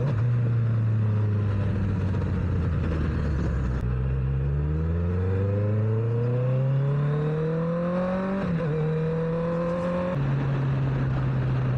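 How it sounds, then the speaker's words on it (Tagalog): A Honda four-cylinder car engine drones steadily from inside the cabin, climbing smoothly in pitch through the revs while accelerating, then dropping with a gear change and settling at a steady cruise. "Tunog ng 4-cylinder sa tenga."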